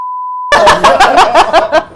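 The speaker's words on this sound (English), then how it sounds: "I'm beeping that out." A steady electronic censor beep holds for about half a second, then stops abruptly as laughter and lively chatter burst in.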